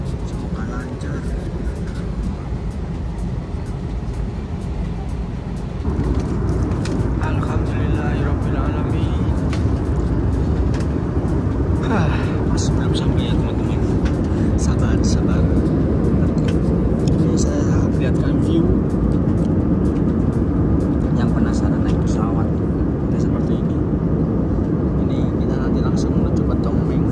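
Steady broadband roar inside a passenger airliner cabin en route to Don Mueang Airport in Bangkok, Thailand, a continuous low engine and air rush that swells slightly after a few seconds, with faint clicks and cabin sounds on top.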